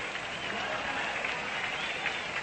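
A stadium crowd at Sportsman's Park applauds batter Stan Musial as he comes up to bat: dense, steady clapping from many hands, continuous and fairly loud throughout.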